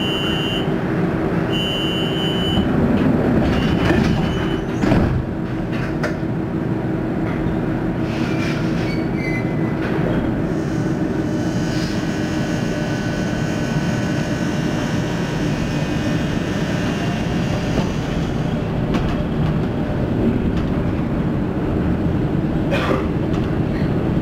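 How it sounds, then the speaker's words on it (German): Düsseldorf airport Sky Train running toward Terminal C, a steady rolling rumble with faint wheel squeal and whine across the whole stretch, plus brief high electronic tones near the start. "This train is proceeding to the last stop"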